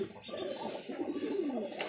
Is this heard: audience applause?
no